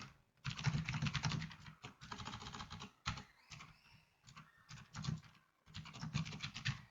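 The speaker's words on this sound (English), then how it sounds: "I'm just typing the natural language." Close, brisk typing on a computer keyboard comes in several bursts of rapid key clicks, separated by short pauses, with no voices.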